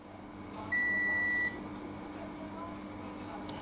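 A single sharp beep from a Bluetooth digital multimeter's continuity test, held for under a second over faint room hum, with someone talking quietly around it.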